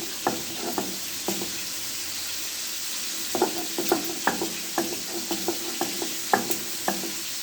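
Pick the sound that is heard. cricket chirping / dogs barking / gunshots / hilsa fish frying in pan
hilsa fish frying in pan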